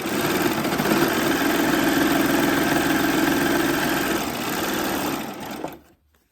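A Babylock Acclaim overlocker runs steadily as it stitches over a thick fabric hem, a loud, close, even mechanical whir lasting several seconds before winding down and stopping.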